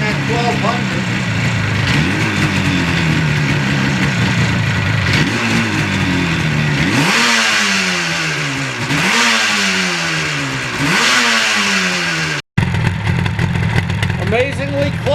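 A Yamaha RD400 two-stroke motorcycle fitted with new Mikuni carburetors idles and is blipped repeatedly in a rising and falling rhythm, loud and close indoors, with a brief cut partway through.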